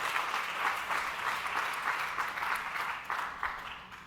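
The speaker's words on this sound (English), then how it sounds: "give him a round of applause" Audience applause at a real estate keynote event in Las Vegas: a sustained, even wash of many hands clapping together, steady and moderately distant, with no talk over it.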